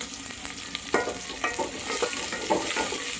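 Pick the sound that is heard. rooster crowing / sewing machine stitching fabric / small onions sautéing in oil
small onions sautéing in oil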